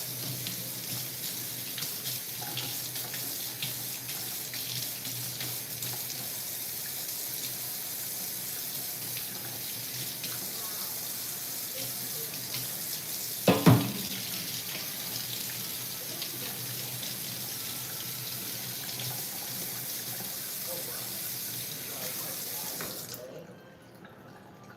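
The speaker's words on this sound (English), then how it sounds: "let me first just rinse off this knife" A knife being rinsed under a running kitchen tap, water streaming steadily into the sink for over twenty seconds, with a short clunk midway before the flow shuts off.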